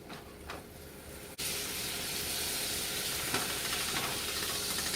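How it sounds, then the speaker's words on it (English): Butter melting in a pan for a chocolate sauce, a soft steady sizzle and hiss that begins after a brief clatter and continues evenly at a low, close level. "melt that butter."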